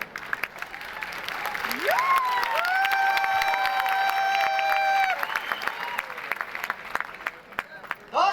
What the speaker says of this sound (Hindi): हमारे लिए नहीं, हमारे गुरु के लिए आप ताली बजा रहे हैं